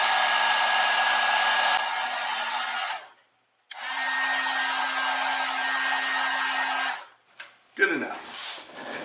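Heat gun or dryer blowing on low heat to dry paint on a model piece, a steady close whoosh in two long runs separated by a brief silence, then a short burst with clatter at the end.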